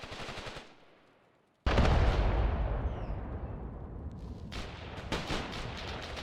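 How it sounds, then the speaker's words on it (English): A huge explosion booms loud and close in the WW2 game Mius Front, cutting in after a quiet moment and rumbling on with gunfire crackling around it. "Big ass explosion."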